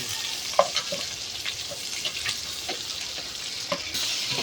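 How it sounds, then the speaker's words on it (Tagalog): Chayote and carrot sauté in a pan for chopsuey, a steady sizzle with scattered clinks and scrapes of a utensil stirring. "Sayote at carrot, sinulog mo."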